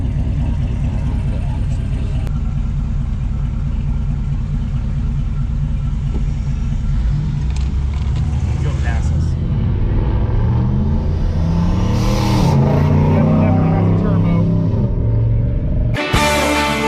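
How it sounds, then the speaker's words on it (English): A truck drives along a road through the Colorado mountains, its engine rumble and road noise continuous and close, with someone talking over it. "That truck sounds good. Now this right here is what you call a good truck."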